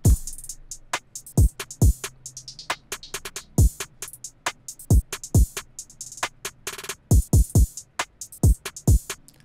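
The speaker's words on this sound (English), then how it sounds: "They are from a beat that I made a couple of days ago and they sound like this." Hip hop drum beat with hard, punchy kicks and snappy hits in a steady looping pattern, dry and up front with sparse gaps between the sharp transients.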